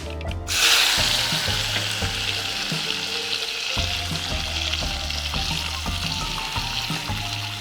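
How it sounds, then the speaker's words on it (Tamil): Steady, dense sizzling of onions and tomatoes frying in a hot pan, with occasional stirring clinks and scrapes, close and continuous. "நறுக்கிய வெங்காயம், தக்காளி சேர்த்தாச்சு."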